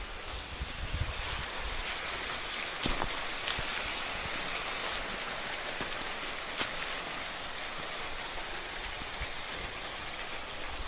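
A mountain stream rushes over a rocky boulder pile below a waterfall, a constant broadband watery roar at steady level with occasional faint knocks.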